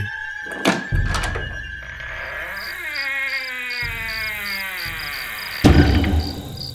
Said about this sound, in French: Mais qui peut bien toquer à cette heure-ci ?